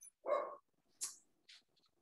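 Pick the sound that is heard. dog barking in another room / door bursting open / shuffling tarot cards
dog barking in another room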